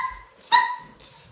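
A dog gives a couple of short yips or barks, moderately close, with brief quiet between them and no talking.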